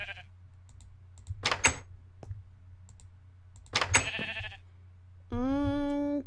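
Sheep bleating in the Minecraft video game, two short bleats separated by a pause, followed by a steady sustained tone, heard clearly with no talking.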